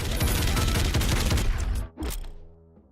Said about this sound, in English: Wow, so this turns into a chain gun.